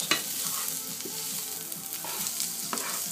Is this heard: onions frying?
yes